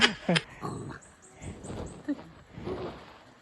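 A dog gives several short barks and whimpering yelps at close range, with faint background noise between the calls.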